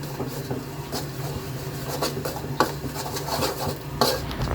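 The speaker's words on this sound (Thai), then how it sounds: "ใส่น้ำตาล ปิ๊บลง แล้วก็ใส่เครื่อง เทศนะครับ แล้วผัด ให้มันออกไม่ไหม้หน่อยนิดนึง" Palm sugar and spices stir-fried in a pan, with steady scraping and clinking of a utensil against the metal and a faint sizzle underneath, close and continuous without speech.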